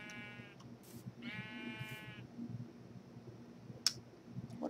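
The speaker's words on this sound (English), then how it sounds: "Punch some sheep in the face." Sheep bleat in a farming video game, two clear harmonic calls in quick succession early on over a steady ambient hum, followed by a couple of short ticking blips.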